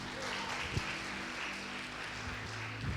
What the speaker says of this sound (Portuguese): Agora uma salva de palmas para Jesus.